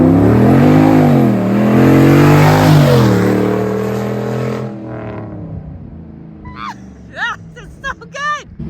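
A powerful 600 hp Hemi V8 in a Jeep Wrangler roars past, pitch rising and falling as it revs through the flyby, then fades away before voices react excitedly.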